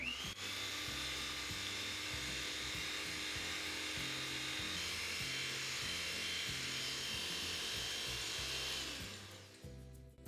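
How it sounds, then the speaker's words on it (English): An electric mixer whisks eggs, sugar and a pinch of salt for a fruit tart batter, giving a steady, close whirring motor drone with a pulsing rhythm that winds down and stops near the end. "we start whisking everything together until we get a fluffy mixture"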